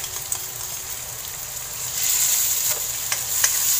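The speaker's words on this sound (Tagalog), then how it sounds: "Sa akin, gusto kong igisa yung tomato paste." Tomato paste sautés in a hot pan with a constant close sizzle, broken by light scraping clicks as it is stirred, and the hiss grows a little louder partway through.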